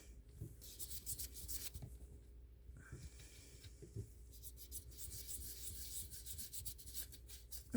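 Paint is rubbed by hand onto a resin piece, producing soft, close, repeated rasping strokes in irregular bursts with brief pauses, quiet and without speech.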